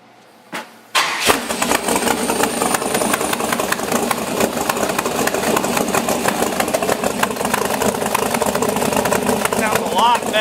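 An LS7 V8 swapped into an S10 truck cranks and fires at about one second, then settles into a loud, steady, lumpy idle that continues for the rest of the stretch with no talk over it.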